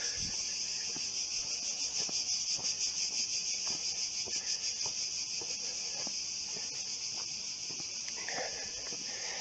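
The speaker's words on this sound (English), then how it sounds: "What would these videos be without the cicadas?" Cicadas on the Filopappos Hills in Athens, a dense continuous high-pitched buzzing chorus that pulses slightly, moderately loud and steady, with faint scuffs and footsteps beneath.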